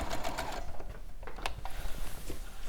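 A sewing machine stitches steadily in a rapid mechanical rhythm, with small clicks and whirring from the mechanism, close and continuous, with no speech.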